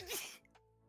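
A single sharp sneeze close to the microphone, loud for an instant and then cut off, followed by near silence during a podcast recording.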